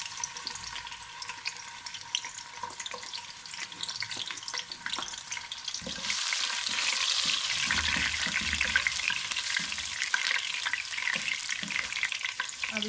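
Ginger and garlic frying in oil in a kadai: a steady, fairly quiet sizzle with scattered crackles and stirring scrapes, swelling louder and denser partway through, with no one speaking.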